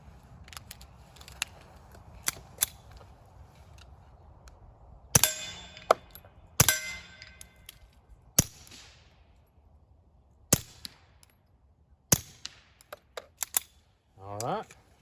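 A Beretta 71 pistol with a Rugged Mustang suppressor fires Norma TAC 22 rounds, giving a string of sharp, quiet metallic cracks and clacks at irregular intervals over a hushed outdoor background, with a short rising noise at the end.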